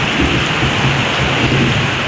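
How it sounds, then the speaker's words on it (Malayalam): Heavy summer rain pours steadily in the city of Thiruvananthapuram, a dense continuous hiss with low rumbling thunder underneath, loud and close with no voices. "ഇപ്പോൾ പെയ്യുന്നത് വേനൽ മഴയുടെ കൊട്ടിക്കലാശമാണ്."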